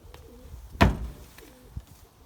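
A pigeon gives a short, close cooing call with a faint softer coo shortly after, amid quiet background rustle.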